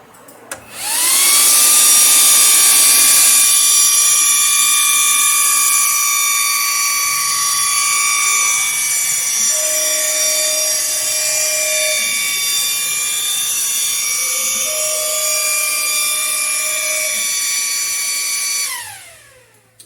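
A laser cutter starts up and runs with a loud, steady high-pitched whine and tonal hum, brief chirping tones appear midway, then it winds down at the end.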